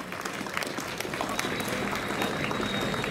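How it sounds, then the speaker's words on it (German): Crowd clapping at a street demonstration in Berlin against the German broadcasting fee, a moderate, continuous patter of many hands heard from some distance. "dafür auch nochmal einen Applaus"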